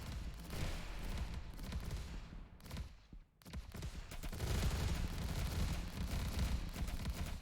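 Explosions in the video game Momentum Mod come as a dense, rumbling barrage of booms. It dips to a brief near-silence midway, then resumes as a sustained, heavy low roar.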